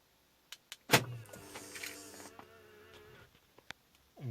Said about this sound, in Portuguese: Vou abrir o carro.